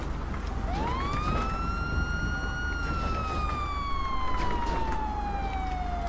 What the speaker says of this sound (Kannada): ಸೈರನ್ ಆಫ್ ಮಾಡು ಸೈರನ್ ಆಫ್ ಮಾಡು